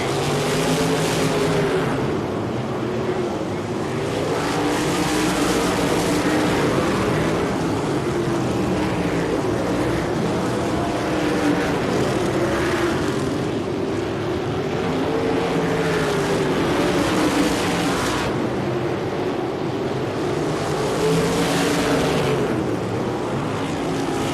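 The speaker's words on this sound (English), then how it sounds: "Jimmy Sills finally getting around a lot of traffic as he comes out of turn number 4" USAC sprint cars race around a track amid traffic, their engines a loud, continuous roar that swells and fades steadily as cars pass, with no voices over it.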